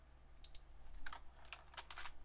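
Keys clatter on a computer keyboard as a folder name is typed in Amiga Forever Workbench 3.1 running under WinUAE, a quick run of close, light clicks in small bursts over a steady low hum, with no talking.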